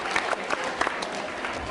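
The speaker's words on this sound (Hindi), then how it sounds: "तालियां जोरदार बजाइए।" A school audience at a quiz show claps steadily, a fairly soft, continuous patter of many hands with a few sharper claps standing out.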